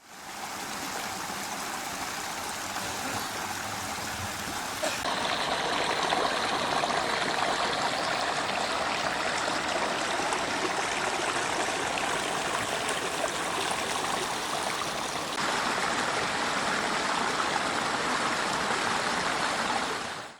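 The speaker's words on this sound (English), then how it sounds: "we've got some really nice sheeting waterfalls that are still producing some rich sound" Continuous rushing water pouring over the ledges of a sheeting backyard waterfall, a full steady splashing roar with no pauses, close and loud throughout.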